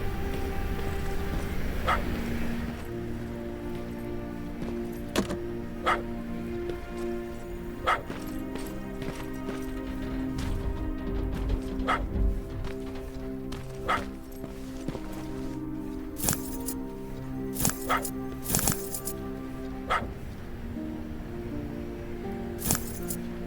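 In the Terminator Resistance video game, a dog barks again and again at a distance, sharp repeated yaps spread unevenly over a low droning game soundscape with scattered clicks and ticks.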